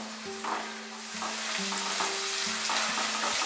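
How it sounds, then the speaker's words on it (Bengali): Ginger garlic paste frying over medium flame in a pan for mutton rezala, a steady close sizzle broken by soft stirring scrapes. "আদা রসুন দেওয়ার পরে আরো মিনিট 2 আমি এটাকে ফ্রাই করব"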